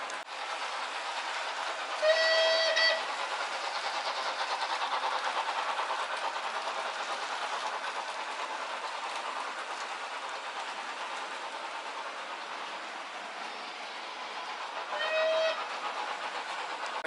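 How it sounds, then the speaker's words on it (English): Bachmann GCR 11F model steam locomotive running with Pullman coaches, a steady hissing chuff and rolling rumble throughout, with two short whistle toots near the start and the end. "I'm very intrigued to see how that heavy load function makes the locomotive sound"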